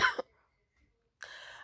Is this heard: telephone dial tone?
no